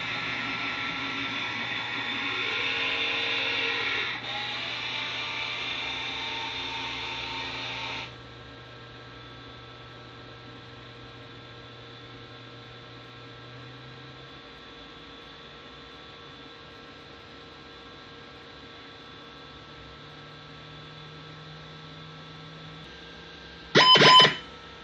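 Atronic slot machine cycling through its self-test, with steady electronic hum and whine, a busier tonal stretch for the first several seconds settling into a quieter drone, then a short sharp beep near the end.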